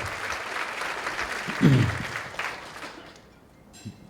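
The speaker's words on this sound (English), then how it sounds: "Let's give him a big round of applause because he does do that." Audience applause at an Indigenous diabetes prevention conference opening, a steady wash of clapping from a large crowd that fades toward the end, with a brief low voice sound partway through.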